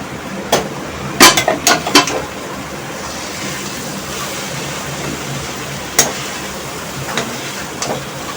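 A roasted chana dal and cabbage puttu mixture stirred in a pan, with a quick run of clattering scrapes and taps early on, then a few scattered knocks against the pan over a faint, steady hiss.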